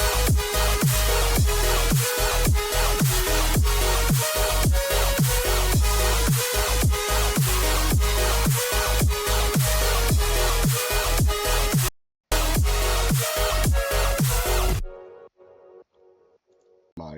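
A glitch hop break section built in FL Studio, matching the chorus: loud, dense beats with thumping bass hits and synth layers, a brief dropout of silence midway, then it stops and fades to quiet.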